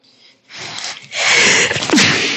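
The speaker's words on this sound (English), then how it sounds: "So when someone sneezes, what do we say?" A single loud sneeze bursts out close by, preceded by a short sharp inhale.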